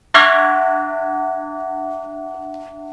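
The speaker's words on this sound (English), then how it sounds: "The 1900s bell." A single bronze bell from the 1900s struck once, ringing out with a clear metallic tone that sustains and slowly decays.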